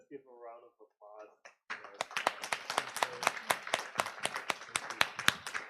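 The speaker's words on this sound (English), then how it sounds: "Let's give a round of applause" Brief speech gives way to applause at a health city forum conference, a modest room of people clapping steadily and distinctly, individual claps audible for several seconds.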